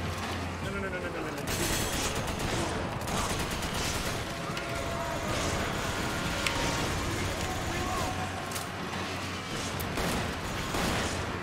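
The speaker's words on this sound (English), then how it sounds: "Just some shotguns." Shotgun blasts and gunfire in the video game Resident Evil 5 boom repeatedly through a busy, dense soundscape, with a person talking over the shooting.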